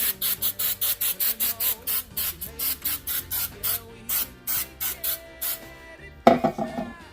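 Short bursts of nonstick cooking spray hit a cake pan before layering in pound cake batter, a rapid series of about twenty close, loud hissing pulses in steady rhythm, ending with a brief clatter.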